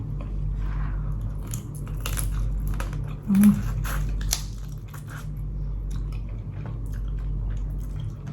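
Blue crab papaya salad with rice noodles being eaten up close, with wet chewing, crunchy bites and squishing over a steady low hum and a brief louder bite midway.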